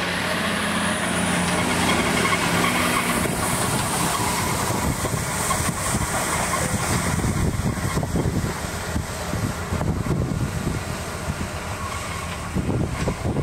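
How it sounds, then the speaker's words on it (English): A Kwik Till machine works a field in one pass, smoothing out wheel ruts and stubble; a steady, loud rumble of engine and soil churning runs throughout, with wind buffeting the microphone. "Carine's have a range of Kwik Till machines available for either hire or sale that in one pass will quickly and easily eliminate most wheel tracks"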